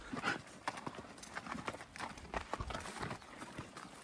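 Brisk clip-clop of horse hooves on a hard surface in Mongolia, a fast, irregular patter of many walking steps close by, with faint background noise.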